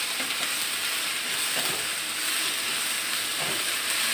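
Oyster mushrooms being sautéed in a pan for a spinach stir-fry, a dense, even hiss of sizzling oil right at the pan, steady throughout with faint stirring scrapes.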